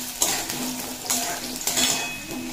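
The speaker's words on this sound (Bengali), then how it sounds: "দিয়ে দেব আলু। দিয়ে কয়েক সেকেন্ড নাড়িয়ে নেব।" Potatoes dropped into a pan of hot tempering and stirred, a continuous oily sizzle broken by sharp metallic scrapes and clinks of the spoon against the pan. No one speaks.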